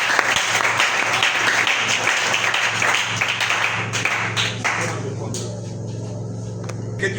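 A church congregation claps and applauds loudly and steadily, a dense wash of many hands that thins slightly toward the end.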